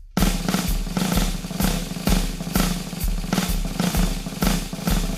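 A drum kit plays a syncopation exercise with a softly feathered bass drum and hi-hat on beats 2 and 4 under snare work, a steady, close pattern of regular low thumps beneath brighter strokes.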